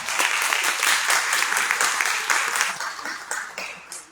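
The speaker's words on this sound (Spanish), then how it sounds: "le damos fuertes aplausos" Loud applause from a conference audience on climate change, a full sustained round of clapping that thins and fades toward the end.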